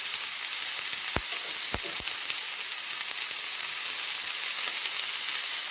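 Vegetables sautéing in oil for a breakfast quesadilla, a loud continuous sizzling hiss with a few sharp clinks from stirring early on and no talking.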